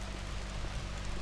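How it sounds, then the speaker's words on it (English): Steady, dense rain hisses in a video game, a short, even wash of broadband patter with no talk. "it's raining"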